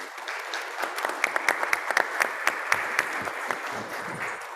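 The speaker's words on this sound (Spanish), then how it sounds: "Yo les pido por favor un aplauso a los panelistas." An audience claps steadily, a dense patter of many hands with sharper individual claps standing out, continuing throughout.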